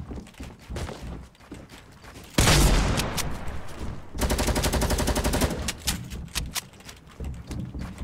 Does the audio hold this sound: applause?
no